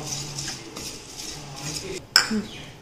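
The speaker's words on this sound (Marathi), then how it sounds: "आता आपण दगडफूल परतून घेत आहोत" Stone flower (dagad phool) dry-roasting in a pan for homemade Bhandari garam masala, with soft scraping and stirring rustles, then a sharp metallic clink near the end.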